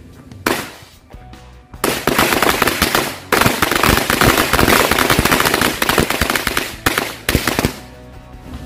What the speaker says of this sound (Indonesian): Mercon korek sekaligus 2 gepok.